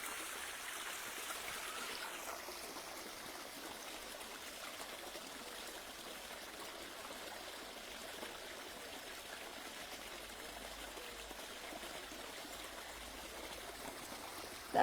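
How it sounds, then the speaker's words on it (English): A garden fountain gushes water in a steady, soft, continuous splashing wash that holds evenly throughout, with no voices. "So it's lovely to have the sound of gushing water."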